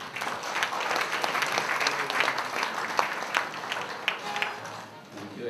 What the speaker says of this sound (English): let's all give a warm round of applause for Engineer Mario R.